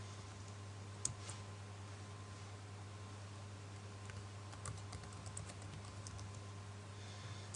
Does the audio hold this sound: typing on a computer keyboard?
yes